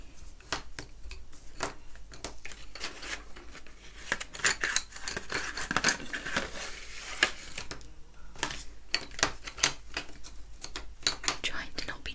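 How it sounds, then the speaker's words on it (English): Colouring pencils tipped out of their packet and rolling around, close, soft clicks and clatters of wood on a surface, with whispered talk over them. "Trying to not be too loud with the pencils, but they just roll everywhere"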